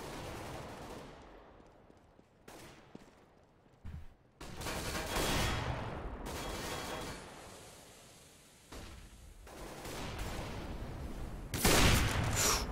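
Gunfire crackles through a competitive shooter video game tournament match, coming in intermittent bursts. Loud volleys alternate with quieter stretches, and the heaviest burst lands near the end.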